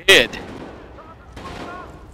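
A single sharp gunshot cracks out in the video game Medal of Honor and is followed by a faint, quieter tail. The whole clip is very short.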